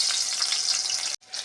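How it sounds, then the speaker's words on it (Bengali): Whole garlic cloves fry in hot oil in a kadai, giving a steady, close sizzle for over a second before a brief sharp dropout and a return of the frying hiss. "রসুনটা একটু ভাজা ভাজা হবে।"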